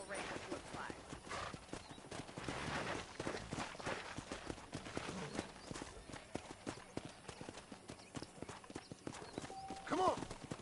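Horse hooves clip-clop steadily in Red Dead Redemption as the animal trots along, with the occasional whinny, under ongoing talk.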